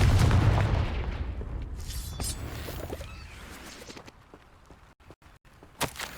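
The Confringo explosive spell goes off in the Hogwarts Legacy video game, a loud booming blast at the start that decays into a long fading rumble, followed by a few small clicks.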